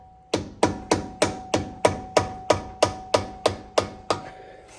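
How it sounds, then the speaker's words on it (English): A flathead screwdriver hammered against a lower control arm fitting on a first-generation Nissan Xterra, about a dozen sharp metallic taps in a steady, even rhythm, close and distinct. "just get my flathead in there and tap it downward"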